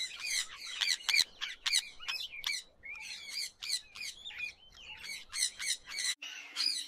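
Harsh, shrill screeching calls from Indian ringneck parakeets in a city, repeated in rapid bursts with brief pauses, loud and close against a quiet background.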